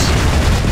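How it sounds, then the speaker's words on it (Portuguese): A grenade detonates in a fast-paced online shooter match, a loud, dense boom filling the whole short moment with low rumble and no voices. "Toma, granada!"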